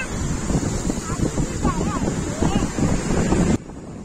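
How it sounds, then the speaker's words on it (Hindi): Strong wind buffets the microphone with a loud roar, while rough sea waves churn and crash underneath at a beach in Karachi, and a voice is faintly heard. "ये देखें कितनी तेज़ लहरें आज जो हैं वो आ रही थी और बहुत तेज़ हवा चल रही थी"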